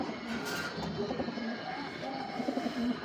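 Giribaz pigeons let out of their coop coo in soft, repeated rolling calls, close by, with faint background noise and no clear talk.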